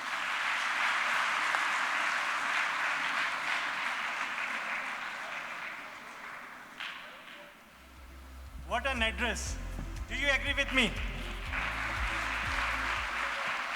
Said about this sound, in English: I think the round of applause speaks.